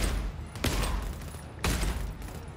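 Two sharp sniper rifle shots from the co-op horror shooter GTFO, about a second apart, ring out close and loud over a dense, droning game ambience.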